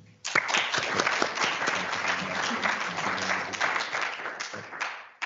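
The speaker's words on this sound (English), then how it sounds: "So I just wanted to say a big round of applause and thank you to Andrea, Craig, Mark and Sally for sharing" An audience at a digital conference gives a round of applause, a full, dense burst of many hands clapping that starts abruptly and carries on for several seconds before cutting off.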